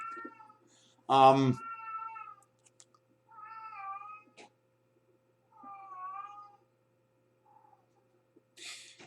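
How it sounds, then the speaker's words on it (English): Cats in heat caterwaul in drawn-out, wavering yowls, one loud harsh cry followed by several quieter moaning calls spaced with silence, fairly close and heard alone. "Cats in heat."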